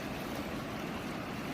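Cold Colorado River water flowing steadily, a continuous broadband rush with no breaks, close to the microphone and moderately loud.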